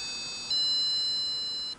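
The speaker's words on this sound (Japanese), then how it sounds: "日本初の音楽の流れる駅弁、メロディーセンサー付き容器" A melody sensor on a Matsusaka train-station bento box lid, shaped like a bull, sounds a thin electronic tone that steps up, holds steady for about a second, then cuts off, alone and fairly quiet.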